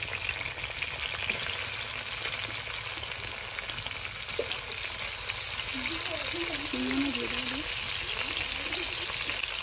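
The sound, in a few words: cauliflower frying in oil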